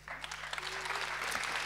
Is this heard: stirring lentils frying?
no